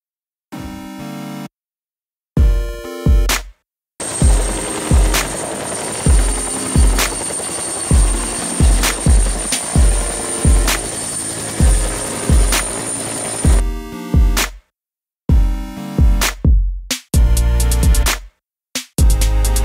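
A toy helicopter sound plays: a steady electronic rotor chop with a high whine, bracketed by clicking button presses at start and end.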